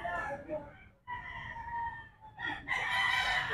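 Yellow-legged roosters crow in long drawn-out calls, one after another, with clucking fowl and faint voices in the background.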